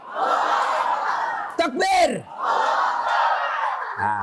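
A crowd of women at a dawn religious gathering roars back in unison to a takbir call, two long loud collective shouts split by a brief single voice calling out in between.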